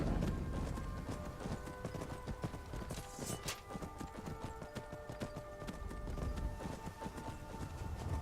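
Horse hooves clip-clopping steadily in Skyrim near Helgen, a continuous run of quick hoofbeats over a dense, noisy game soundscape with a brief whinny-like swell partway through.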